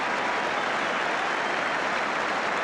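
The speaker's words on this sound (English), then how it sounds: "And the goalkeeper gets applause for the second save." Football crowd at a 1982 Everton match applauding the goalkeeper's second save, a steady, dense wash of clapping and crowd noise heard at a distance throughout, with no speech.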